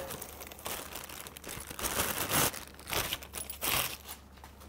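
Packaging around a metal microphone shock mount for a TZ Audio Stellar X3 condenser mic is crinkled and torn open, giving close, continuous rustling and crunching bursts with no talking.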